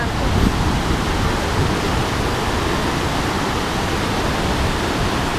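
Niagara Falls roars in a loud, constant broadband rush of falling water, steady and close, with no break across the whole stretch.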